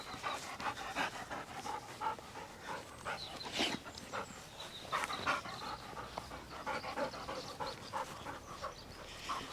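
An excited dog named Rosie pants rapidly and continuously outdoors at an allotment, close to the listener, with occasional faint whimpers mixed into the steady breathy rhythm.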